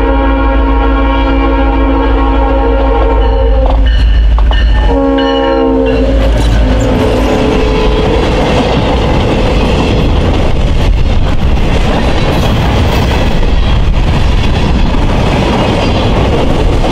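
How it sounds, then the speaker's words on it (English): South Shore freight train led by two GP38-2 locomotives heading west, opening with a loud sustained horn, then heavy engine rumble and wheel clatter as it passes very close and loud. "Pool Freight 10 with two GP38-2s leading the train west"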